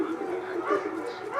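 Several dogs bark and yip outdoors as a car arrives, the barking steady but somewhat distant, with a person talking over it.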